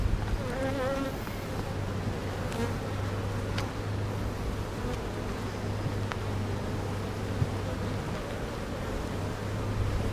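Honeybees buzz steadily in an open beehive honey super on a farm, a dense continuous drone with individual bees zipping close by now and then, with no one talking.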